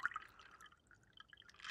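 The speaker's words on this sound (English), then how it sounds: "And I pour my chilled water in" Chilled water, strained free of ice with a fork, being poured into a container for a heat lab: faint, soft trickling and dripping with small splashes, quiet and intermittent, no talking.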